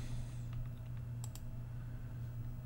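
Mouse clicks on a computer while opening a file in Adobe Illustrator: a couple of faint, brief clicks over a steady low electrical hum, with no talking.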